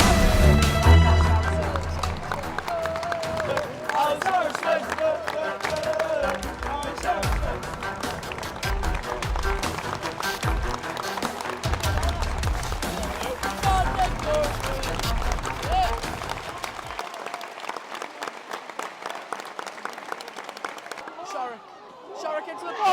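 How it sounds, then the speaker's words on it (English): Crowd noise from Port Vale football fans at Stadium MK, with scattered clapping and booing rising and falling as a broad, steady roar. It fades suddenly into near-quiet toward the end. "few claps from the Vale fans."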